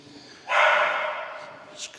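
A dog barks outdoors at a touring caravan park in Brixham, Devon, a sustained bright burst of barking at moderate distance, then fading, with a short yip near the end.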